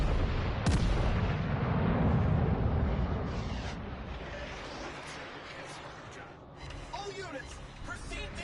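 Warship guns in World of Warships Legends fire with a heavy boom and a long rumbling roll. Distant explosions follow while someone talks over them.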